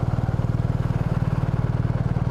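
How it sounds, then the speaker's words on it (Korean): A BMW R1250 RT motorcycle idles close by, its boxer engine and exhaust giving a steady, deep throbbing pulse with fast regular firing beats and a slight mechanical clatter, loud and alone. "배기음이 느껴지고 웅장합니다"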